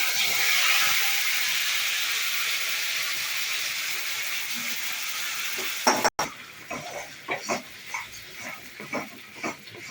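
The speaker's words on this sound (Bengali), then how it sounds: "এটা আমি ভাজতে দিয়েছি, ভালো করে ফ্রাই হবে" Spinach paste fries loudly in a hot pan over a tempering of dried chilli, cinnamon and cardamom, giving a steady dense sizzle that gives way to scraping and knocking as it is stirred.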